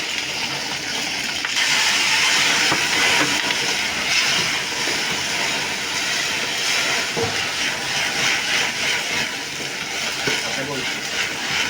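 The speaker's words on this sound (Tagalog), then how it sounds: "ilagay na natin itong bawang at sibuyas natin" Garlic and onion go into a hot pan and raise a loud, continuous sizzling hiss that stays steady and close, with a person speaking over it.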